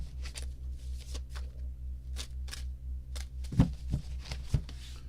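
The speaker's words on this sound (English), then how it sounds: "Cleansing shuffle as always" Tarot cards are shuffled in short, crisp riffling bursts, close and fairly quiet over a low steady hum, with a couple of louder taps near the end.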